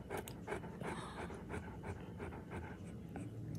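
A puppy pants quickly and rhythmically close by, quick breathy huffs repeating steadily through the whole stretch, quiet, with no talk.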